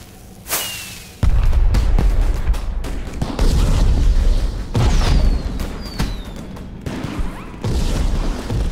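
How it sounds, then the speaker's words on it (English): Fireworks in the Minecraft Story Mode video game go off as a series of loud booms, with whistling whooshes rising between the bursts. "Firework."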